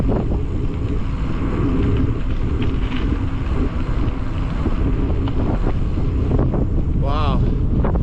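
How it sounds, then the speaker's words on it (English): Strong wind buffets the microphone on a winter bike ride in Denali National Park, a loud, constant roaring rumble with gusty bursts throughout. A brief voice is heard near the end. "A lot of wind."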